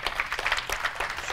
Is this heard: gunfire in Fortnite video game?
no